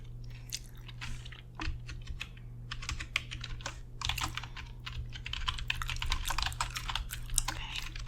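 Steady typing on a computer keyboard during a receptionist role-play, many soft, close clicks in quick irregular bursts, with gum chewing mixed in and a low hum beneath.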